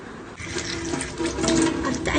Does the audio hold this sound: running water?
yes